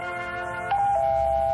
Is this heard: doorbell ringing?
yes